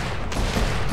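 Rapid gunfire from a shooting video game, a dense, loud burst of overlapping shots packed into about one second.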